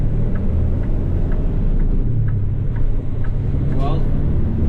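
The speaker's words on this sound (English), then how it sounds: "Accelerate on the highway here." A Kenworth T880 truck accelerates on the highway with a loud, steady low diesel drone and cab rumble. Faint rising whines are heard near the end, and a voice can be heard speaking over it.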